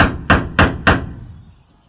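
Three sharp metallic strikes from punching indentations into metal, evenly spaced and close, each ringing briefly before fading into quiet.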